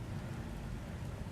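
Heavy thunderstorm rain pours steadily during a lightning storm at Quartu Sant'Elena, a dense constant hiss with low rumbling underneath, loud and close.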